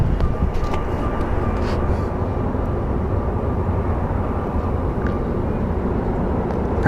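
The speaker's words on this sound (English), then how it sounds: "So we're watching a little Southwest plane taxi in." A Southwest Airlines jet taxis at Phoenix Sky Harbor International Airport, its engines producing a steady, loud roar that stays constant throughout with no pauses.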